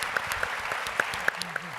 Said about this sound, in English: let's please join me in a round of applause for our co-panelists up on stage